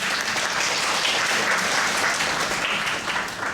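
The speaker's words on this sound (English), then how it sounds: "Can we give them a round of applause?" A room of listeners applauds during a medical school admissions talk at Cardiff Sixth Form College, producing a brief, continuous wash of clapping at an even, moderate level.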